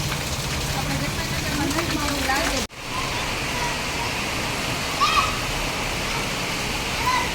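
Torrential monsoon rain, the first heavy downpour of the season, pours in a dense steady roar near a river, broken by a brief cut partway through, with faint voices in the background.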